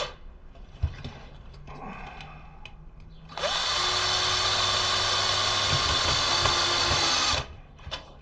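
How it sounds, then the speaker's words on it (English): An electric screwdriver driving long screws into a homemade mini wind generator, one sustained close whirring run of about four seconds preceded by quieter handling clicks. "I'm going to tighten it with the electric screwdriver to do it faster."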